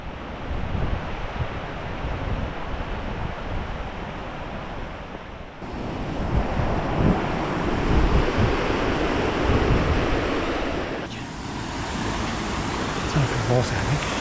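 Rushing water in a gorge on a Peak District hillside loop, a broad continuous roar that swells louder midway, mixed with gusting wind noise on the microphone.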